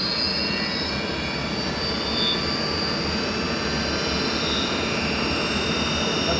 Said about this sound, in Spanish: eso lo único que van a escuchar es el ruido del motor y todo ese ruido que produce